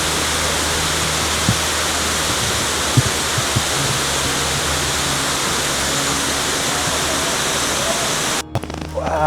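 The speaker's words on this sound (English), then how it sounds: "Look at this amazing waterfall behind me." A waterfall dropping down several steps on Jade Dragon Snow Mountain gives a steady, loud broadband roar of falling water close by, with faint brief voices, ending in an abrupt dip near the end.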